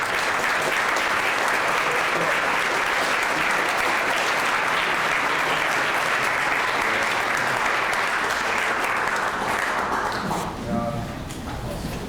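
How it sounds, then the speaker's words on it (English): A banquet room of scouts and guests breaks into sustained, dense applause at a 25th anniversary scouting dinner, loud and steady for about ten seconds before thinning out near the end. "So, round of applause for everyone."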